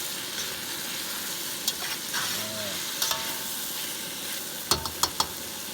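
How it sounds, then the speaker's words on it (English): A one-pot camp skillet of potatoes, vegetables and kielbasa sizzles steadily while a utensil stirs it, with a few sharp scrapes and clinks against the pot toward the end. "We're going to give it one last stir"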